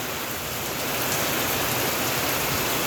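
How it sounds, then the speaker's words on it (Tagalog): Heavy, persistent rain pours down outdoors on the eve of Christmas in the Philippines, a dense continuous hiss of drops hitting surfaces, loud and close with no talking. "Ito yung ulan na matagal matapos."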